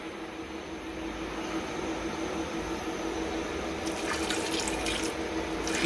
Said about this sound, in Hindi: ये 1/2 कप हम इसके अंदर और पानी का डालेंगे।